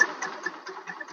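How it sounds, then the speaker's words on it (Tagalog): A Rusi Macho TC150 motorcycle fitted with a tri-electrode spark plug idles nearby, its mid-pitched engine putting out a steady, slightly uneven pulsing rumble with no talk over it. "So okay naman yung tunog ng ating motor, no?"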